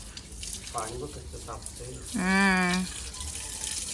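Water runs steadily from a tap for washing, a continuous wash of noise throughout, with a voice speaking over it in the middle.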